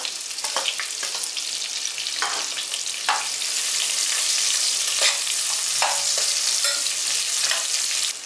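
Sliced onion sizzles and fries steadily in a hot pan for a pea pulao, a continuous loud crackle with occasional stirring scrapes and no talk.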